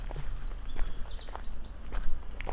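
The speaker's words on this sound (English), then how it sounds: "Beautiful bird song all around me again, which is what I love to hear." Bird song fills the air near St Luke's in Linch, West Sussex, with several birds chirping and trilling at a moderate distance over a steady outdoor hum.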